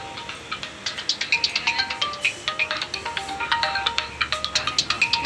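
A mobile phone ringtone plays indoors, a repeating bright electronic melody of short pulsed tones, loud and steady for several seconds with no talking over it.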